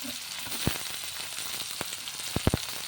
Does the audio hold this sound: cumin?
yes